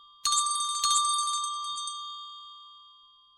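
Two bright metallic bell strikes about half a second apart ring out clearly, then a long shimmering decay fades slowly with no other sound.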